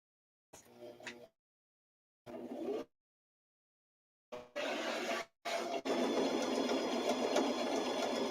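A sewing machine chain pieces fabric for a pleated clutch in short stitching bursts separated by silences, then runs in a longer continuous hum, close and steady.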